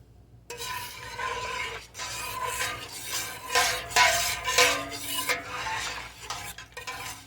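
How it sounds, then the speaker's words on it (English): A spoon scrapes and swishes steadily around a pot of purple hull jelly, with repeated metallic clinks and a faint simmering sizzle, close and continuous, with no voices. "I'll give that a good stir"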